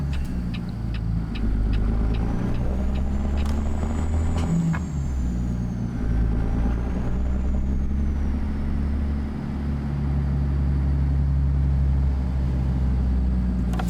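Heavy truck engine droning low and loud after a downshift in American Truck Simulator, a Peterbilt 389 hauling on a highway, with a steady rumble, a brief hiss midway and a faint whistling whine above.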